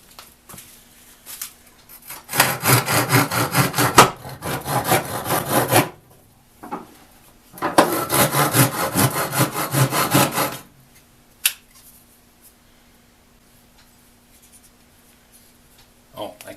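A sharp pruning saw blade cuts through wood in two rapid bursts of rasping back-and-forth strokes, each a few seconds long, close by, with a short pause between them and brief knocks afterward.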